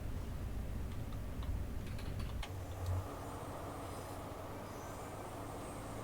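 HST train with MTU engine running in Train Simulator on the Penzance to Plymouth route, a steady rolling rumble with a few faint clicks and a brief louder thump midway.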